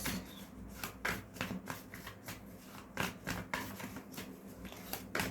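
Tarot cards being shuffled during a reading: a close, steady run of crisp riffling and flicking bursts with short pauses, no talking.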